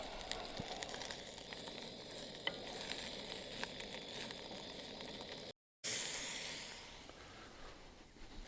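Onions sizzle and fry in rendered fat from a fatty lamb chop at a campsite, a steady close crackling hiss with scattered pops, briefly cut out then resuming loud.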